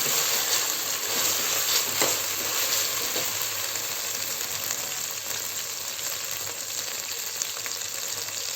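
Mutton and spices frying for yakhni pulao: a steady, hissing sizzle close by, with a couple of soft stirring knocks early on and little else.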